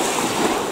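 Ocean waves wash in on a sandy beach at Mystic, Connecticut, a loud and steady broadband rush of surf with no voices.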